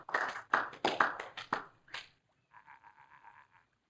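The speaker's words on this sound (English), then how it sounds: "So I thought we could begin with a round of applause befitting such a great man." Video game applause: a handful of sharp, separate claps, then a short electronic jingle follows.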